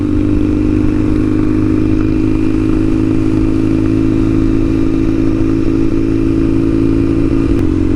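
A Kawasaki KZ750 Scrambler motorcycle being ridden, its engine droning at a steady loud pitch with constant wind and road rumble, close and continuous throughout without any talk.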